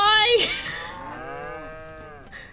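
A cow in the video game WolfQuest lets out one loud, drawn-out moo, close by and alone, trailing off into quiet.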